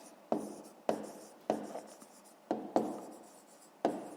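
Pen strokes on paper while numbers are written out for a fifth-grade math exercise: six crisp, scratchy bursts in an uneven rhythm, close and fairly quiet, with no talking.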